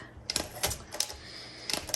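A 1963 Olympia SM5 manual typewriter typing, with several sharp, close key strikes in small bursts and irregular gaps between them.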